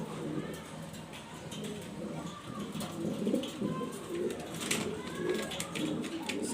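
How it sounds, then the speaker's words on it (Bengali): A pair of German Beauty pigeons coo repeatedly in soft, rolling bursts at close range, over a steady murmur of background noise. "মাদি কবুতরটা অনেক সুন্দর"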